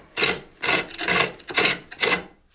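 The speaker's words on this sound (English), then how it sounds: "So I'm going to turn my hook and then I'm going to plunge in. So it's kind of a scrape." Hook tool scraping a wooden bowl on a spring pole lathe, heard as five rasping strokes in a steady rhythm, each a burst with a short pause between, close and fairly loud.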